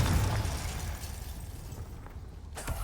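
A Confringo blasting spell goes off in a fantasy video game fight against an Ashwinder, a loud booming burst at the start that rumbles and fades, with a second sharper crack near the end.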